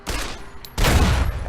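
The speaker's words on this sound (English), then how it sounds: "So I'm gonna step back real quick and shoot it." A gunshot fired at a powder charge in Fallout New Vegas, heard as a brief burst, a short pause, then a louder, fuller blast that rings out for most of a second.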